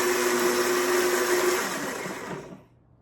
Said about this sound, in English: So I'm gonna start the blender. It is a little noisy, so hold on for a sec.